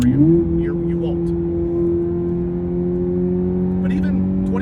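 Corvette ZR1X accelerating, a steady low engine drone with a rising pitch at the start, then holding even and strong under light throttle, close up and continuous.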